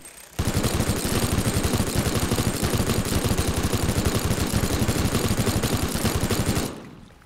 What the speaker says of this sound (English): And then let's take the mini gun,